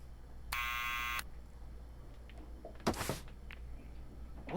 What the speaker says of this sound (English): let's go ahead and ring the buzzer.